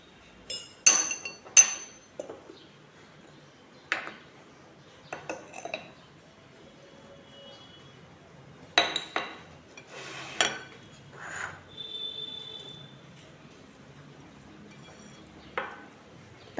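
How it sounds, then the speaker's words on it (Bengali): Small kachki fish are tossed with turmeric powder and salt in a bowl, giving sparse, bright clinks and taps of metal against dishware at irregular moments, with near-silence between them. "প্রথমে আমি দেখুন মাছগুলোকে হলুদ গুঁড়ো আর লবণ দিয়ে মেখে নিচ্ছি"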